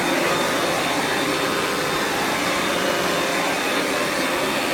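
A Panasonic Jet-Flo MC-6225 upright vacuum cleaner runs continuously with a loud, steady, hissing whine and rushing airflow, close up and without voices.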